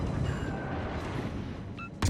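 Torpedoes strike a warship in a naval combat video game, a dense continuous rumble of explosions and impacts, with a sharp louder burst at the end.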